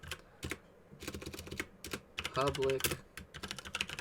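Computer keyboard keys are tapped in quick irregular bursts close to the microphone, with a brief spoken word in the middle.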